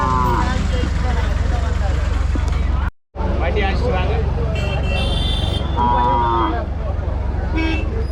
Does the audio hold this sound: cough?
no